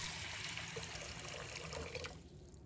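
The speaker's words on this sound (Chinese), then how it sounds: "把红豆给它清洗干净，洗去表面的灰尘和杂物" Clean water poured over red beans to rinse off dust and debris, a steady close splashing and trickling that fades toward the end, with no voices.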